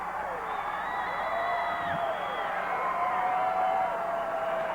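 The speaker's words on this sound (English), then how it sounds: "the U.S. Express gets a big cheer from the crowd" A crowd at a 1986 Fort Worth wrestling match cheers and roars continuously, a dense steady wash of voices with whoops, while a commentator talks over it.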